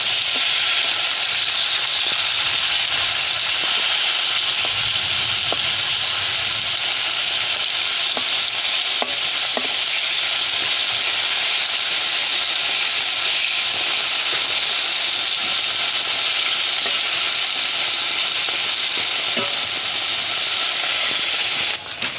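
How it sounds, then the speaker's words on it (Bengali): Pointed gourd (parwal) frying in hot oil in a pan, a loud, continuous close sizzle with a few faint clicks of a stirring spoon. "ভালো করে ভাজাতে হয়।"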